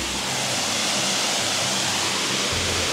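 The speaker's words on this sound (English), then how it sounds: "I love waterfalls." A waterfall in Panama roars as a dense, continuous rushing hiss of falling water, loud and close with no other sounds.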